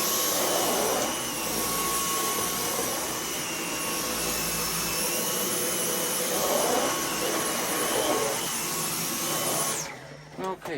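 A stick vacuum, one of a Dyson, Tineco or Hoover, runs loud and steady for about ten seconds while picking up a big mess of pet fur, then cuts off abruptly at the end.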